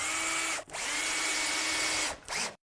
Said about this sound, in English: 30mm screws through the back.